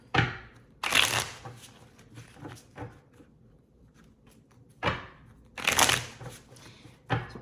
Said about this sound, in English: That didn't shuffle at all. Okay, let's try that again.